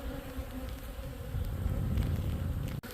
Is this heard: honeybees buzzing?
yes